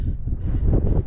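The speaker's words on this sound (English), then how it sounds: "Oh, the wind stirred up again" Wind buffets a microphone at an outdoor gold-prospecting spot, a loud low rumbling roar that swells and fades unevenly for about a second.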